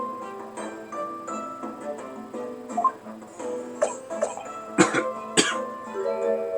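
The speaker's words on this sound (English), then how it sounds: "You're coughing up blood." In the Great Ace Attorney video game, a character coughs up blood. The fit comes as repeated harsh coughs and throat clearing that build toward two loud bursts, set over a faint steady ticking and soft game background music.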